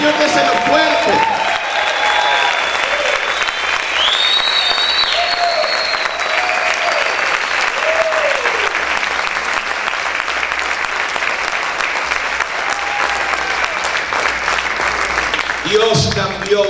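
Worshippers in a church keep up loud, continuous applause for the whole stretch, a thick steady roar of many hands with a few whoops rising above it.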